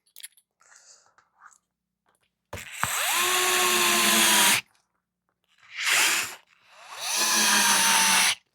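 Power driver with its clutch set to 10 drives ball studs into tight-tolerance RC chassis knuckles on a 3Racing Sakura D6 build; three loud bursts of motor whine rise and settle, with a few faint clicks and taps before them.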